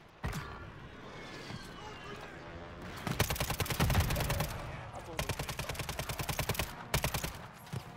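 Rapid bursts of automatic gunfire in Warzone 3, loud and close, with several sustained volleys separated by short pauses over a steady background rumble.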